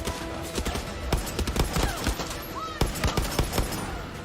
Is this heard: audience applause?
no